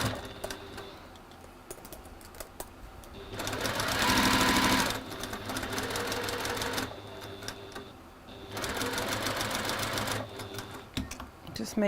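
Sewing machine stitching quilt fabric blocks together with sashing strips, its motor running in steady bursts of rapid stitching separated by short pauses, close and fairly loud.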